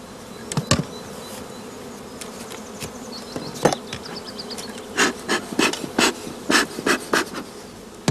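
Honey bees buzzing around hives in an apiary beside allotment gardens, a steady hum with individual bees zipping close past in repeated loud swells.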